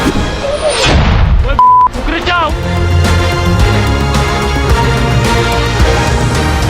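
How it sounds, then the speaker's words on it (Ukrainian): Loud, heavy booms and crashes from mortar fire explosions during combat near Bakhmut, dense and chaotic, with a sharp tone and a brief pause partway through. "Тут ми попали під мінометний обстріл"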